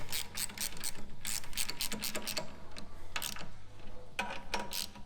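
A socket ratchet with a 9/16 socket tightens the bolts of a hydraulic brake pedal kit on a Slingshot, giving bursts of quick, close, loud pawl clicks separated by short pauses.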